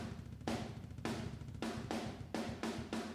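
Compressed near room microphone track of sampled metal drums, heard solo: dense, even kick pulses beneath loud, sustained, roomy snare blasts that barely decay between hits.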